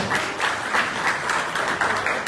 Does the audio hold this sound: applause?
yes